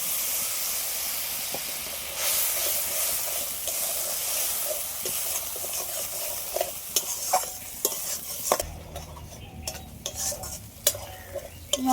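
Coconut milk poured into a pan of frying spices with Kashmiri chilli hisses and sizzles loudly, then settles into quieter bubbling broken by a spoon's scraping stirs.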